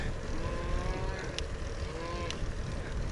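Cows moo loudly and close by in a shaded roadside spot on a hot day, with two long drawn-out lows over a steady rumbling background.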